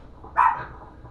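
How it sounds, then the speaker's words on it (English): A single short dog bark, moderately loud and fairly close, standing alone against a quiet indoor background. "The dog barking."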